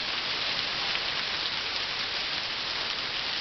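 Hail pounds down around a house, a dense, continuous hiss of countless ice pellets striking roof, wall and ground, steady and loud with no gaps.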